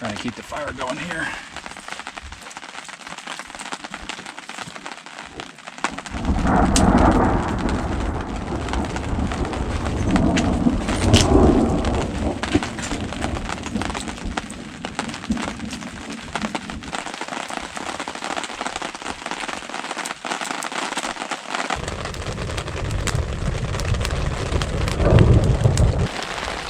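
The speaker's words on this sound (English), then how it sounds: "Storm's starting to roll in." Rain falls on a tent campsite at Rampart Reservoir, Colorado, during a thunderstorm: a steady hiss with deep rumbling swells that rise and fade, plus faint bird calls in the background.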